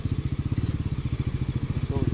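A new Bajaj Pulsar NS400Z motorcycle engine idles during warm-up, a steady close, even thumping pulse with no talk over it.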